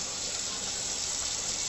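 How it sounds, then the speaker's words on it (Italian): Hot water runs steadily from a newly installed kitchen sink tap, a constant hiss of flowing water, moderately quiet and close, with no voices. "Adesso ho aperto l'acqua calda."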